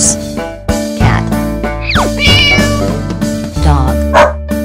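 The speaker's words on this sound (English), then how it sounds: "Cat." A cartoon cat meows in a children's nursery rhyme, a couple of bright, close meows set against cheerful music.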